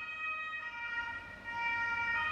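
An ambulance siren wails steadily, with a sustained tonal sound that holds for about two seconds at moderate loudness, with no talking.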